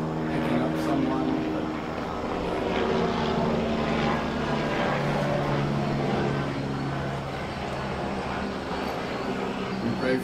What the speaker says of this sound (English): the helicopter that's coming in.